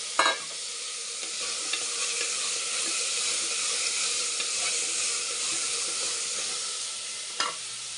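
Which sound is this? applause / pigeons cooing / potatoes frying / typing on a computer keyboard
potatoes frying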